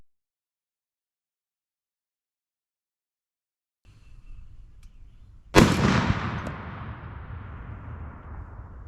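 A .50 caliber rifle fires at a Tannerite target outdoors, one sharp loud report followed by a long rolling echo, with a quieter low rumble of background noise just before it.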